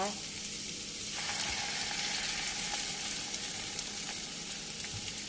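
Eggs going into stir-fried bamboo shoots in a hot pan, a loud continuous sizzle that swells once they hit the oil and keeps crackling densely afterward.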